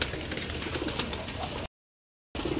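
Pigeons cooing on a rooftop loft, soft repeated coos close by, broken by a brief gap of silence before the cooing resumes.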